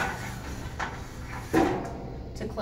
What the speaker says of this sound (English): To close the guillotine door.